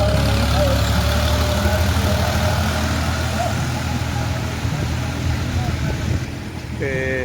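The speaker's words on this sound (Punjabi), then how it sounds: "ਚੱਲਦਾ ਟਰੈਕਟਰ ਪੂਰੇ ਨਾਲ" A tractor engine at full throttle drones steadily and loudly nearby, a low constant rumble with a brief spoken word over it.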